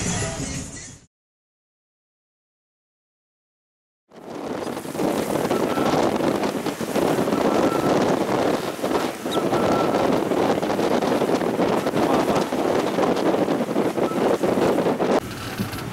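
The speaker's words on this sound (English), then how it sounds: "We've got spray kicking up off of the front of the boat. So it is sailing." A short silence gives way to steady, loud rushing wind and water noise, the constant roar of a sailboat under sail with spray kicking up off the bow.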